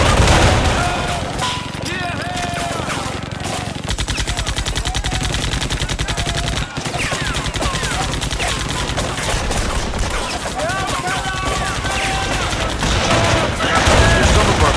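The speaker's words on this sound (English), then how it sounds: "Firefight ahead." A firefight near a barn in a World War II video game set at Vierville, with dense, continuous automatic and rifle gunfire, loud and close, mixed with shouted voices and battle noise throughout.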